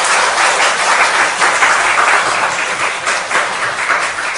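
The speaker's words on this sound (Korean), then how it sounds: "우리 민건이 대단히 놀라운 요약을 했는데 우리 크게 한번 박수하십시다" A large church congregation claps steadily and loudly for several seconds, a dense, even wash of applause with no voices standing out.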